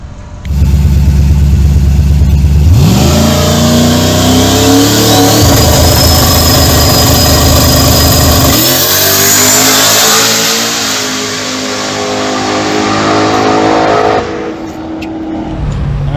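A high-powered car with tightened suspension and added power accelerates hard on a speed pass, its engine roaring loud and close as it revs up through the gears, then holding a steady high-pitched whine before easing off.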